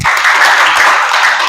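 Students in a classroom clap their hands together in a brief, loud burst of close, dense applause that runs steadily without pause.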